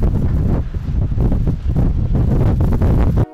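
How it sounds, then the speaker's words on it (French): Violent gusts of wind roar loudly and continuously over open, arid countryside, a broad buffeting rush that rises and dips in waves throughout without any voices. "le vent se leva sur les terres arides de Picardie. Des bourrasques de vent si violentes"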